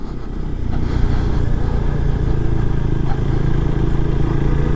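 Motorcycle with traction control switched off churning through roughly six-inch-deep sand at Corbett Wildlife Preserve: a steady, loud engine drone held close and constant throughout, with sand hiss underneath and no talk.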